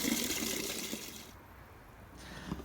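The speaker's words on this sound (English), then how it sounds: "So I like to use a watering can with a fine rose." Water from a watering can fitted with a fine rose showers onto potted bare-root roses on a patio, a soft, steady hiss that fades partway through before a small splash at the end.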